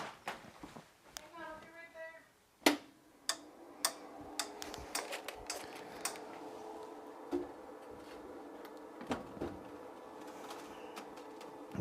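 A 3D printer runs with steady mechanical whirring and a sequence of irregular ticks and clicks, close by, after a few seconds of quieter room sound.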